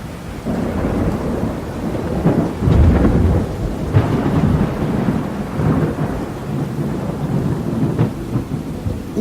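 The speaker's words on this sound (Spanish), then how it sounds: "pude apreciar grandes tormentas rojizas en ese extraño firmamento oscuro." Deep rolling thunder rumbles on and off over a steady wash of rain, with louder cracks breaking through now and then.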